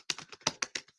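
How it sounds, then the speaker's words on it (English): Fast, uneven typing on a computer keyboard: about eight crisp clicking keystrokes in a second, close and clear, with no talk over them. "I'm typing fast and the computer's not keeping up with my keystrokes"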